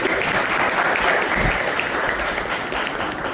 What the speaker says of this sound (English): So big applause for them. Please clap for them.